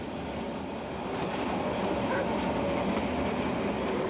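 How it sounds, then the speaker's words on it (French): A freight train on the Corsican railway at Bocognano rolls by with a loud, steady rumble and rattle of wagons, close and continuous throughout. "C'est ici que nous rencontrons le train de marchandises, le loco, dans le langage des cheminots corses."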